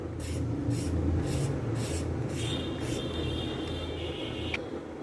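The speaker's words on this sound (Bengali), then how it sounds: "আমি এখানে কিছু পটল নিয়েছি পটলগুলো এভাবে আছড়ে নিব" Pointed gourd (potol) skins are scraped in a kitchen, giving a series of quick, rhythmic rasping strokes close by over a faint steady background hum.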